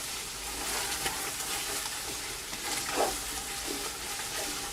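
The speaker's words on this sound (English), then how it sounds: "Because for 15 minutes I'm going to stir this around until all the tomatoes turn into a beautiful paste." Tomatoes cooking down into a paste for lamb curry, a steady sizzling fry with soft scraping as they are stirred around the pan.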